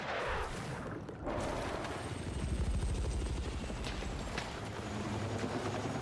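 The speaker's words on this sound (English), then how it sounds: "Enemy helo." An enemy helicopter in the video game Battlefield 6 gives a steady rotor thump and drone that holds for several seconds. It sits among battlefield ambience with a few distant sharp reports.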